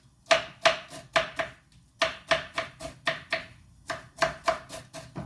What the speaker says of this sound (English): Now I'm gonna mince my celery leaves.